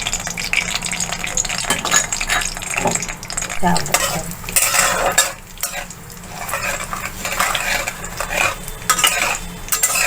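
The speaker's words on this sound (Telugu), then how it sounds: "నూనె కాగాక తాలింపు దినుసులు వేసుకోవాలి." Tempering spices crackle in hot oil in a pan while being stirred for a snake gourd curry, a loud, busy mix of sizzling and repeated metal spoon scrapes against the pan.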